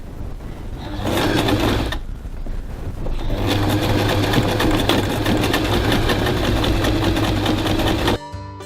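Sewing machine top stitching along the edge of a bag strap about 3 mm in, running in a steady loud mechanical whir with a short pause partway, then continuing to a stop.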